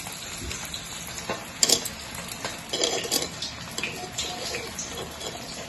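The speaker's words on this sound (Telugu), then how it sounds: "ఈ బాల్స్ని మనం ఇలా కొంచెం ప్రెస్ చేసి ఇందులో నూనెలో వేసుకుంటాం" Noodle manchurian balls frying in hot oil, a steady crackling sizzle with scattered clinks of a spoon against the pan and bursts of louder bubbling as the balls are dropped in.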